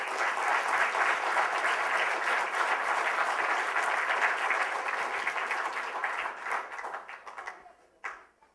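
A hall audience at a Black Male Empowerment Expo at Morehouse College applauds warmly to welcome a speaker. The clapping is loud and sustained, then thins into scattered claps and fades near the end.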